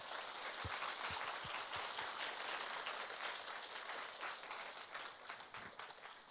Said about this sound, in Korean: 우리 뜨거운 마음으로 박수로 축복합시다.